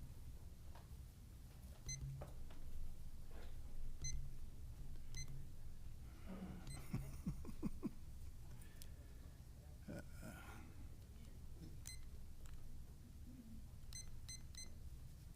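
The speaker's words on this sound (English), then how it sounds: "I'm getting the hang of this new timer" A meeting's speaking timer gives short, faint electronic beeps at intervals across a quiet council chamber, some in quick clusters, with rustling and soft handling noises between them.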